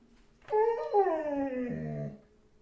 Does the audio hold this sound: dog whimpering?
yes